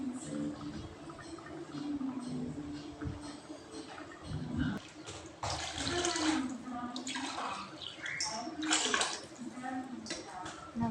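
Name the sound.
water poured into rice in a cooker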